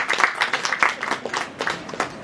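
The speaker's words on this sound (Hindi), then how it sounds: "तो एक बार हमारी इस टीम के लिए जरा जोरदार तालियां बजा दीजिए।" A short burst of audience clapping at a film trailer launch, uneven and moderately loud, with separate hand claps audible in the crowd.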